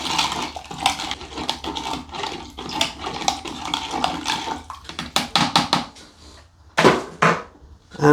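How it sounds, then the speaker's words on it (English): A sanitised spoon stirs sugar into water in a container for homemade cider, giving a run of quick clinking and swishing strokes, fairly close and steady, with short pauses and a few sharper scrapes toward the end. "sanitised spoon, let's give that a good stir."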